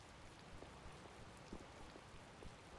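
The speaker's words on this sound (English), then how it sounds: "the ongoing rain and wind are being caused by a Blastia" Steady rainfall with gusting wind in the Tales of Vesperia video game, a faint, even hiss of drops hitting surfaces with a few soft low thumps, no voices.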